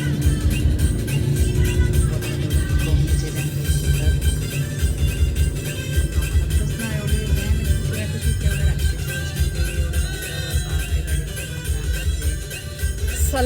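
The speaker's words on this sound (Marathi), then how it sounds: "गाडी येते" A car climbs a hill road toward Karla at night. A steady low engine drone and road rumble are heard from inside the vehicle, continuous and even throughout.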